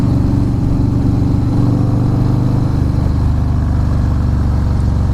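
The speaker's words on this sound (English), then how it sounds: "you hear the engine, you can feel it pulsing through you" A Harley-Davidson Fat Boy S motorcycle is ridden on the road, its engine a loud, steady low pulsing drone that runs unbroken and close for the whole stretch, with no one talking over it.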